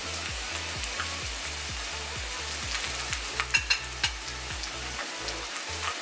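Steak and onion sizzle in a frying pan, a steady close crackle over a pulsing low mechanical hum, with a few sharper pops midway.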